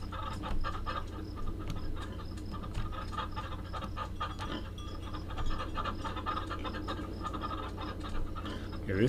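Leghorn chickens in the farming video game Farm Together cluck and scratch in a low-level, continuous farmyard ambience, with soft repeated clucks and rustles over a steady hum.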